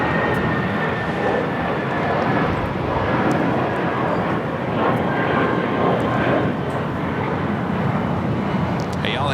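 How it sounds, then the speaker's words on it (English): A Cathay Pacific Boeing 777-300ER arriving from Hong Kong, heard as a loud, broad, continuous jet roar that holds steady throughout. "Have a second Cathay Pacific 777-300ER coming in from Hong Kong."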